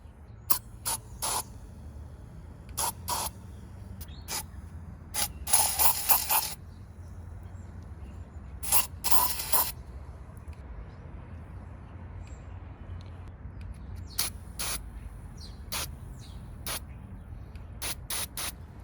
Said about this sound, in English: I'm going to spray some into the areas where the exhaust gas travels